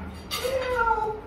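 A cat meows once near food, a short rising-then-falling mew at moderate distance over quiet room noise.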